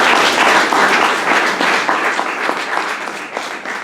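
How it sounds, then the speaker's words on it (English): Audience applause for Liz at a district address by a city councilman: loud, sustained clapping from a large crowd, gradually tapering slightly over a few seconds. "give Liz a round of applause."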